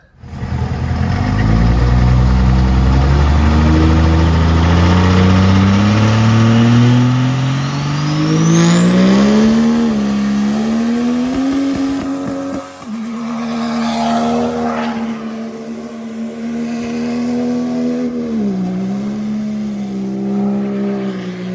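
A Cummins diesel swapped into a Squarebody truck running loud and close, revving up with a climbing pitch, then settling into a steady rumbling idle with brief throttle blips.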